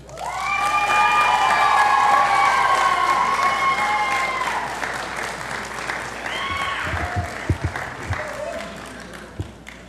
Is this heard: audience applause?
yes